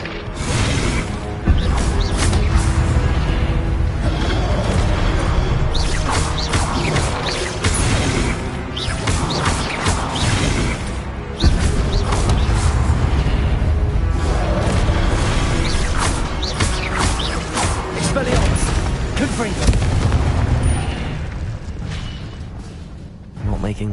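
Confringo fire blast spell explosions in Hogwarts Legacy, a steady barrage of booms, crashes and whooshing bursts sustained across the whole stretch, loud and dense, with a voice shouting spell names over the din.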